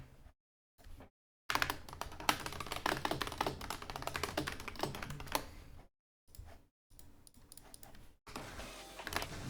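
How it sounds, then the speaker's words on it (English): Bursts of fast typing on a computer keyboard while chatting in Discord, dense clicking keystrokes close by, broken by short silent gaps. "Just typing stuff in Discord."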